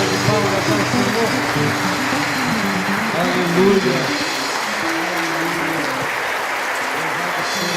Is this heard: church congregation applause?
yes